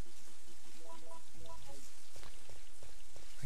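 Steady rainfall in the video game Resident Evil 3, a constant broadband patter and hiss, with faint tonal game sounds and soft thuds layered underneath.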